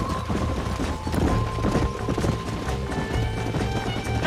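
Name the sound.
horses galloping in video game Red Dead Redemption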